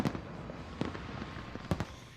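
New Year's Eve fireworks over the River Thames in London burst in several sharp cracks and booms over a constant crowd murmur, with a closely spaced pair of loud blasts near the end.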